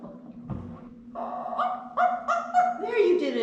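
A voice imitates a dog barking, giving a few short rising yips and woofs that grow louder toward the end, with a steady hum underneath and an adult nearby.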